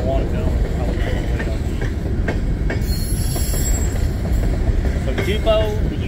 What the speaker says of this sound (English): Of course, all these trains, this one's going into St. Louis.